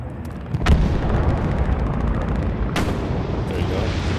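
An artillery gun fires in the video game Hell Let Loose, two heavy booming shots about two seconds apart, each with a sharp crack and long rumbling tail over constant battlefield background noise.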